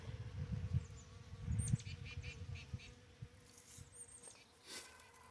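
Honeybees hum steadily around a strong hive of Carniolan stock during fall hive preparation, a low close buzz with a few sharper passes of individual bees and faint birdsong above.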